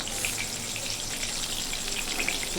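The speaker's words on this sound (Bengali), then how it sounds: "এইভাবে লাল লাল করে সোয়াবিনগুলো ফ্রাই করে নিতে হবে।" Soybean chunks deep frying in hot oil until reddish-brown, a steady close, dense crackling sizzle that runs evenly throughout with no voices.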